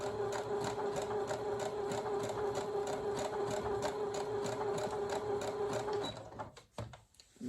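A sewing machine runs steadily while stitching curves on a St. Patrick's Day fabric placemat, with a fast, even mechanical whir close up before it stops abruptly near the end, followed by a few brief handling noises.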